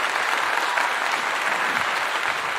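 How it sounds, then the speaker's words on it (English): A crowd applauds with dense, steady clapping that holds at an even, loud level throughout. "Laurel Dean, let me give you a clap."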